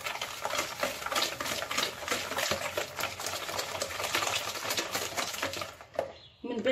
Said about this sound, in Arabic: غنضيف عليها الكاس ديال السنيده، وحنا كنخلطوا حتى تذوب لينا السنيده مع البيض مزيان ويساجموا لينا